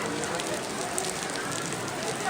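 Steady daytime rain pours at the Ajmer Sharif Dargah shrine, a dense, even hiss of drops hitting surfaces close by with no breaks.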